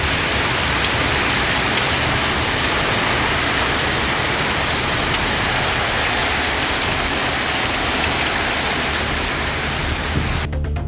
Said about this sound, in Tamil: மாலை பரவலாக பலத்த காற்றுடன் மழை பெய்தது.